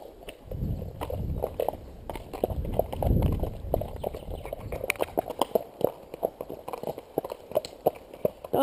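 Horse hooves clip-clop at a walk along a track, recorded from the rider's headcam, with steady irregular knocks growing more distinct as the horse moves on, under occasional talk and rustling.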